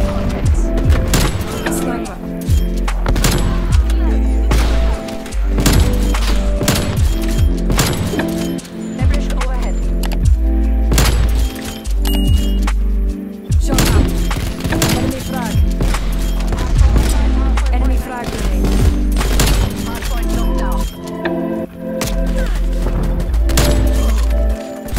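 Repeated sharp gunshots ring out from no-scope sniping in a shooter video game, cracking over a constant game soundtrack while a player talks throughout.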